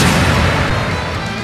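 A Crimson Slash attack in Trails of Cold Steel III lands as a loud, dense burst of blade impact and explosive rumble, sustained and close for a second and a half with no talk.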